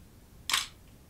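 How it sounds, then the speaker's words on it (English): A 35mm SLR camera fires its shutter and mirror at 1/1000 second, giving a single crisp, close mechanical snap against a quiet background. "If I take this up to its fastest speed, 1/1000th of a second, you'll hear it and you'll see the mirror move"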